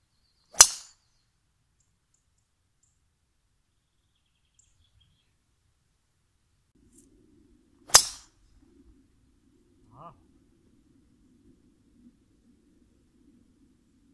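A golf driver strikes a ball off the tee twice, each hit a sharp, loud, isolated crack several seconds apart over near silence, with faint bird calls in between.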